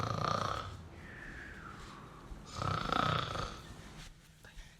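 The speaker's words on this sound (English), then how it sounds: "That grandmother has a mighty snore." A stage actor playing the wolf in a school musical performance snores loudly, with two long rasping snores, the second heavier, in a live theatre hall.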